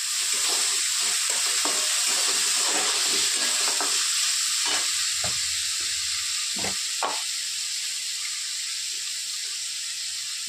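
Tomato and onions frying in a pan for a dry vegetable dish, giving a steady, loud sizzle with hiss throughout and occasional scraping and stirring knocks, with no talking.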